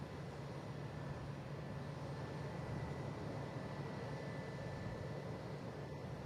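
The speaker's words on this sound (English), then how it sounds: "we have American Airlines coming in from Charlotte, A321, flight" An American Airlines A321 airliner arriving at Boston Logan International Airport makes a steady, distant engine rumble with a faint whine, even and unbroken, with no one talking.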